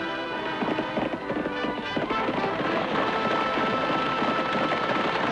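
A horse galloping hard under a dense musical score, steady rapid hoofbeats blending with orchestral sound throughout, from a western television series.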